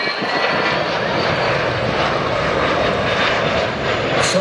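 Small passenger plane of an airline on the Nairobi–Kisumu route passing overhead, with a loud, steady engine drone that fills the clip and stays constant throughout.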